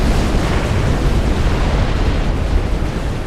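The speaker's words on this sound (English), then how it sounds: "These destroyers firing torpedoes under the ground towards his commander." Destroyers' torpedoes exploding in the strategy game Forged Alliance Forever form a loud, continuous rumbling wall of blasts with no pauses.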